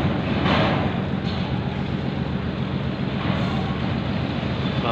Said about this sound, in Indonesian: Nah, ini kayaknya trailer nih.